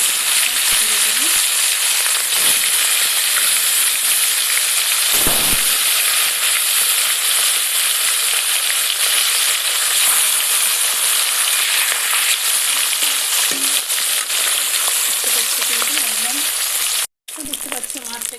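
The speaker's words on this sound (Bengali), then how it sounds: "আমি তেল দিয়ে দিলাম, তাহলে মাছগুলো ভালো করে ভাজতে সুবিধা হবে, লেগে যাবে না" Fish frying in hot oil in a pan gives a loud, steady sizzle and crackle that runs the whole time, with a few soft clinks and a brief dropout near the end.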